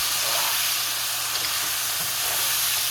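Mixed vegetables frying in oil for rice stick noodles, a steady close sizzle and hiss holding evenly throughout with no pauses.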